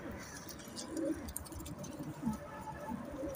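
Crested pigeons cooing on a rooftop loft, several soft low coos in a brief, quiet stretch with faint background noise.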